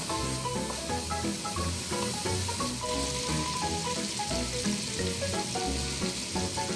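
Celery and other vegetables for seafood pancit bihon sautéing in a pan, a steady close sizzle and hiss with faint stirring clinks, no voices.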